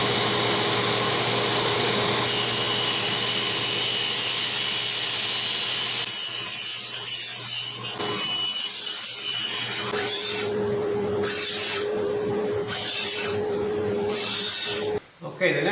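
Material for an RV insulated skylight cover being cut by hand, with a steady rasping, rubbing scrape at first, then intermittent cutting strokes alongside low speech.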